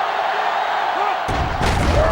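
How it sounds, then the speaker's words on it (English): Roaring stadium crowd in the NCAA Football 2010 video game for a Nebraska versus Nevada matchup, a steady loud din that surges with a thump partway through. "They're really struggling now as this crowd is going absolutely insane"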